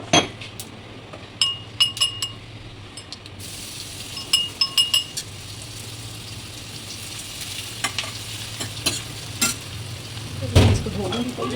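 Crushed garlic hitting hot tempering oil in a home kitchen, a steady low sizzle under repeated clinks and scrapes of a spoon stirring against the pan, with sharper taps scattered throughout.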